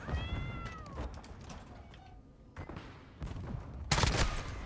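A sniper rifle fires in a first-person shooter match on the Grind map: a single sharp, loud shot crackles near the end, after a stretch of mixed game noise and a few whistling electronic tones.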